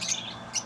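Pet birds kept in cages chirp in two brief, faint high tweets, near and alone without talk.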